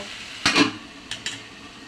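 Pieces of rohu fish are turned in spice masala in a pan, with two short close scraping stirs over a faint background sizzle.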